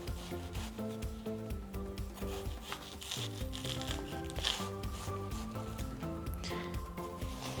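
A knife trims the rind off watermelon pieces with quiet, close scraping and rubbing strokes in a loose, repeated rhythm.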